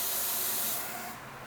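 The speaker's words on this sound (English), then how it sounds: "I'm going to put some starting spray in it." Starting spray is blasted into a car engine as a short, close hiss lasting about a second before tailing off.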